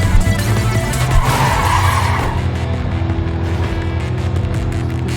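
Trucks swerve and skid in Clustertruck, loud tire screeches and engine roar sweeping over several seconds, fading into a steady rumbling drone.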